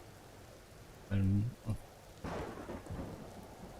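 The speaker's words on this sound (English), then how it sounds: "Then it's pouring with rain." Heavy rain pours steadily in the sci-fi survival game Empyrion Galactic Survival (Alpha 10), with a loud burst of thunder near the start and a voice talking briefly over the storm.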